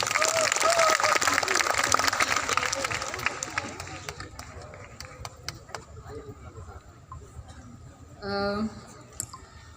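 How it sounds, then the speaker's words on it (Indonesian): An audience at a writers festival in Makassar applauds after a greeting, a broad burst of clapping that swells at the start and thins to scattered claps over several seconds, with faint chatter and a brief voice near the end. "Tepuk tangan dulu dong."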